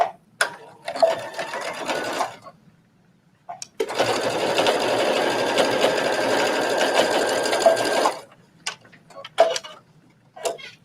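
Sewing machine back stitching a shoulder seam on a trench coat, running in two bursts: a short one, then a steady four-second run, with faint handling sounds between and after.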